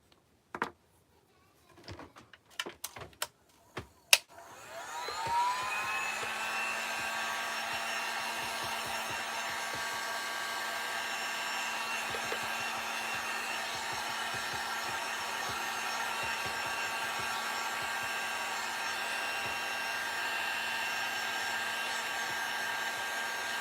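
A few clicks and knocks, then a hair dryer switches on to dry a coat of paint on a spring wreath, blowing in a steady, close whir that continues to the end.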